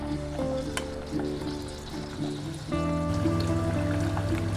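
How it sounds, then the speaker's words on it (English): Pork fat sizzles steadily in a pan over low to medium heat, a continuous crackling fry with a low hum underneath that grows slightly louder partway through. "You start to see it start to sizzle."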